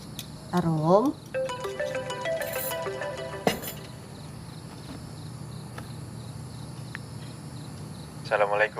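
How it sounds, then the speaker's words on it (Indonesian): A mobile phone rings indoors with a repeating electronic melody, moderately loud in a quiet room, with brief rustling and small sounds around it. "Rum, itu papa yang telepon, nak"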